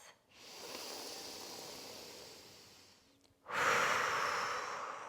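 Deep breaths taken while seated back on the heels in a hero pose during a yin yoga session, each one a close, breathy airflow with a short pause between, the second louder and brighter.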